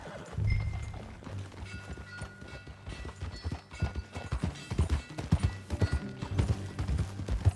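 Horse hooves clip-clopping into a steady galloping rhythm in the video game Red Dead Redemption 2, growing busier and louder over a low rumbling game soundscape.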